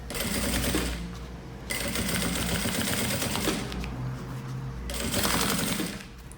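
Sewing machine stitching the lining of a fabric roll-up pencil case, a steady mechanical whirr in several bursts with short pauses between runs, no voices.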